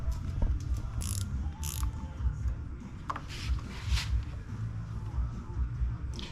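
Nut being tightened onto the bottom of a new aftermarket clutch or brake lever on a 2025 Honda Grom, giving a run of soft ratcheting, metallic clicks at close range over a constant low background rumble.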